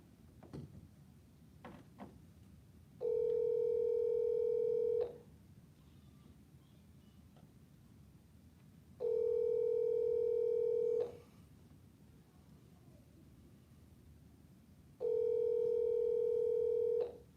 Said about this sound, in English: Let me make a call real quick.